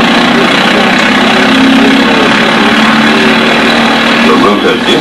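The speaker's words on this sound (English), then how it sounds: "The takeoff sequence starts with the rotor being spun up to the required speed." Wallis autogyro engine running steadily to spin up the rotor before takeoff, a loud continuous droning hum with a low throbbing tone that holds constant throughout, with no talking.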